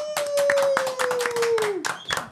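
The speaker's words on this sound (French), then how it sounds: "Des applaudissements pour Reda." A few people clap briefly for a new guest on a podcast, a short scattered patter of claps over a sustained tone, fading after about two seconds.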